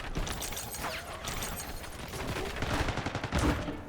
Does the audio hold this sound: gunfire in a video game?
yes